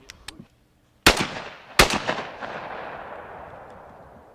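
Two loud shotgun blasts at clay targets ring out about a second apart, each trailing off in a long outdoor echo, with a couple of fainter knocks just before.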